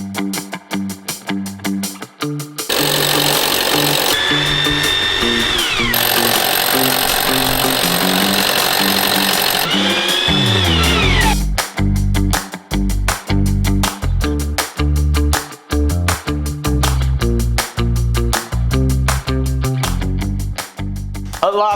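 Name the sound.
power drill drilling mounting holes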